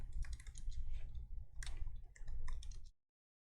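Rapid typing on a computer keyboard, a dense, steady patter of close key clicks for about three seconds before stopping abruptly into silence.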